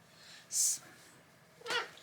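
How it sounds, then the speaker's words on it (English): Cats meowing close by indoors, two short separate meows about a second apart, the first brighter and louder, with no talk over them. "my kitties are just trying to get to me today"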